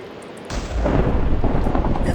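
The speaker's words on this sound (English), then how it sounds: "I still hear the thunder and lightning." Thunder rolls through a storm in a video game: a sudden onset after a quiet moment, then a loud, deep, rumbling roar that keeps going, with no talk over it.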